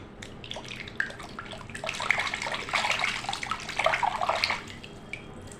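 Water splashes and trickles steadily while a toy animal is scrubbed and rinsed under a running tap, a close, busy wash sound with small drips, building slightly and easing near the end.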